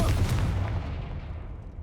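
A Confringo spell explosion in the video game Hogwarts Legacy, a single loud, close blast that rumbles and fades out over about two seconds.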